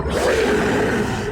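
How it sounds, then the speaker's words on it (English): A lion's fierce roar in an audiobook sound effect, sustained and loud, rumbling steadily for just over a second with no speech over it. "not far away in the western corner of the field, a fierce lion's roar was heard"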